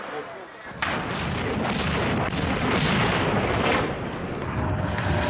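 A continuous roaring barrage of Grad rocket launches thunders on in a district of Donetsk, with several sharper bursts punching through the dense rumble.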